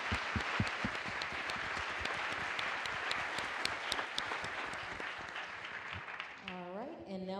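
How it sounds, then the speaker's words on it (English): Loud, sharp clapping from an audience at a NASA OSIRIS-REx asteroid sample event, honoring the flight dynamics team, steady for several seconds, then it fades out as a voice begins speaking. "So I do want a round of applause for the flight dynamics team,"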